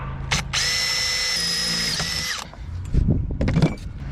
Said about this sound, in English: drill for the pop rivet